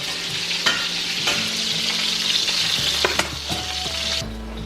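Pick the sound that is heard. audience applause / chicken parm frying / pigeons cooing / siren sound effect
chicken parm frying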